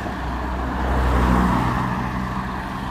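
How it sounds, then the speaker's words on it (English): Road traffic rumbles past outdoors with a steady low engine drone that swells in the middle and eases off, close and fairly loud, with no talk over it. "In fact, there's traffic go past."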